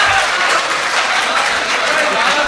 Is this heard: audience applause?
yes